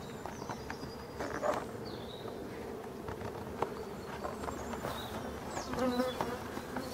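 Forest honeybees humming steadily around an opened hive during a beekeeping session, a continuous layered buzz with individual bees droning past close by now and then.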